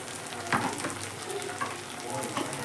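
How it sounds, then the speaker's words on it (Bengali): Ground spices sizzle and fry in a pan for raw banana kofta curry, a steady close crackle broken by a few soft scraping stirs. "এর সমস্ত গুঁড়ো মশলা দিয়ে খুব ভালো করে আবারও কিন্তু আমি কষিয়ে নেব।"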